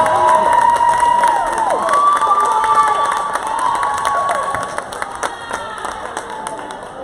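A crowd cheers and shouts at a women's college basketball game, with high young voices prominent and some clapping, loud at first and gradually dying down over several seconds.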